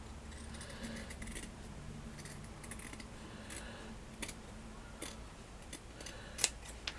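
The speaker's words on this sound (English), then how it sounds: "when you cut this off, do not cut your ribbon" Scissors snipping through ribbon in a craft project, a few faint close clicks and sharp snips over a quiet background hum, with one louder cut near the end.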